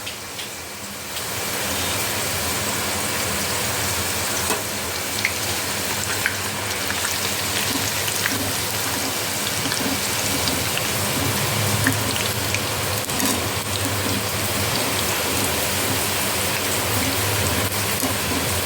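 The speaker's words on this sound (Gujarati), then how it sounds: "અહીંયા જો વરસાદ ધોધમાર આવવા માંડ્યો" Heavy rain pours down steadily, a dense unbroken roar of drops drumming on surfaces, with no voices.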